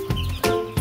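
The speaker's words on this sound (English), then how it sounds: "those chickies behind you, they get to go in the chicken coop" Chickens on a farm give three short clucks near a chicken coop, close and evenly spaced, with no talking.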